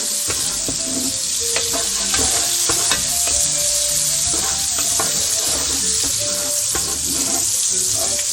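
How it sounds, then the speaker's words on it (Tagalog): Chopped onions sautéing in a hot pan for Bisaya-style humba, a steady loud sizzle and crackle with repeated scrapes of a spoon stirring, continuous throughout. "Let the onion sweat. Oo. And stir till translucent."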